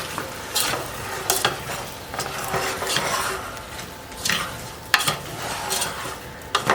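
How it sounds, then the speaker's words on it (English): Spices fry and sizzle in a pot while a utensil stirs them, with repeated scraping strokes and light clinks of metal against the pan, close and steady, at an off-grid forest homestead kitchen. "Just mixing all the spices so they can get fried a little bit"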